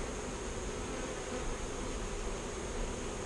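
A dense, continuous buzzing of many Italian-leaning Italian–Carniolan honey bees, steady and close, with no pauses or voices.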